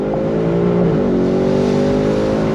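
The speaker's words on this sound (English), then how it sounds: "On throttle, here we go!" A 2025 Ford Mustang GT V8, 60th Anniversary Edition convertible, accelerates hard under throttle, its steady loud engine drone rising in pitch with a brief gear shift partway through, heard close from inside the open-top car.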